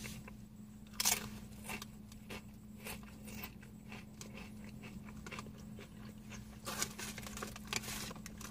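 Someone eats Lay's truffle sour cream and onion potato chips, with close crisp crunches and chewing in an irregular rhythm, sharper bites near the start and end.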